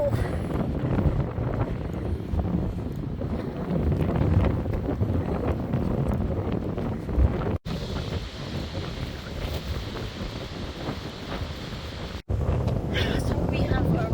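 Strong wind gusting in a very windy town, buffeting the microphone with a constant low rumble and roar, broken by two brief cuts, without clear speech.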